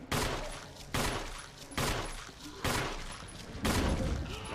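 Gunshots from a handgun in the Resident Evil video game, five evenly spaced loud shots in a row as a clip is emptied into an enemy, each report followed by a short decaying echo.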